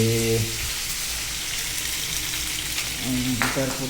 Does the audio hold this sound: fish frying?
yes